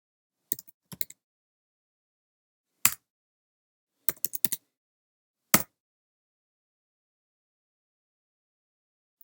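Keys tapped on a computer keyboard while entering HTML code, heard as short bursts of clicks in small groups separated by pauses, close and fairly quiet.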